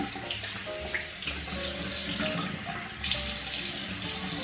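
Shower water running steadily with a dense, even hiss and spatter close by, unbroken and without talk.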